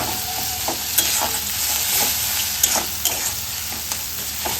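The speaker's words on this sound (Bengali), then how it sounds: "দেখো তেল ছেড়ে আসছে, মশলাটা প্রায় কষানো হয়ে গেছে, আর একটুখানি কষবে" Spice paste (masala) fries in oil as it is stirred. A steady close sizzle hisses throughout, with a few sharp scraping clicks from the spoon at irregular intervals.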